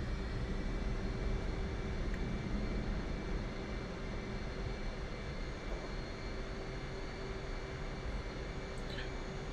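A carrier-based jet taxis toward the catapult on a Persian Gulf aircraft carrier in a flight-combat game, giving a steady, loud, even engine drone with no voices over it.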